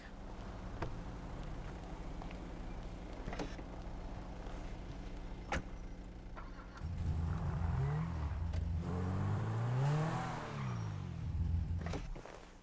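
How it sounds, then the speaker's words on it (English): A car driven in the game GTA 5, its engine idling and then revving up as it pulls away, with rising and falling engine tones, plus a few clicks and door-like knocks before it moves. "Let me just move my my car real quick."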